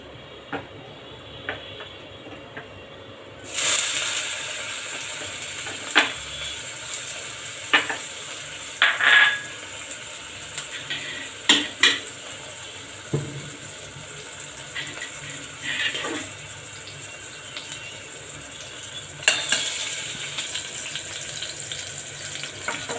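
Chopped onions fry in hot oil in a pan for a dal tempering, a continuous sizzle with repeated scrapes and clinks of stirring, some louder bursts as the onions are moved.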